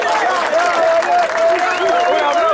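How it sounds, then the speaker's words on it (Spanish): Audience applause and crowd noise at the final of a freestyle rap battle tournament, a steady wash of clapping and cheering mixed with a voice and tonal sounds over it. "Un aplauso a todos"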